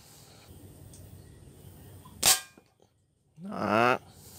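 A small zinc wire slingshot fires at cans, one sharp loud crack of a hit followed by a faint clatter, then a short burst of speech.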